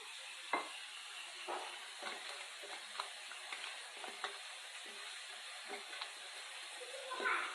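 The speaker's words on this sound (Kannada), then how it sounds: "ನೀರು ಹಾಕಿ ಫ್ರೈ ಮಾಡುತ್ತೇಳ್ರಿ." Okra in a flour batter with a splash of water fries in a pan, giving a soft, fairly faint sizzle with irregular stirring scrapes and taps, close by and without talk.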